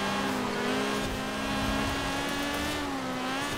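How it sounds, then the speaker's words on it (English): A turbocharged race car engine in Forza Horizon 4 holds a loud, sustained high rev, droning steadily with slight pitch wavers, close by and with no voices over it. "Your engine is very recognizable."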